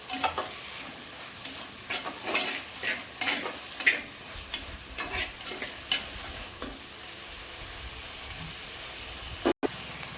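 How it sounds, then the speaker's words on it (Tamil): Tomatoes and drumsticks sautéing in a pan for a sardine curry, a constant sizzle with repeated close spatula scrapes and taps, ending in a sudden sharp knock, no voices. "தக்காளி நல்லா வதங்கட்டும் இப்போ நான் வந்து முருங்காயும் கூட போட்டுக்கிறேன்"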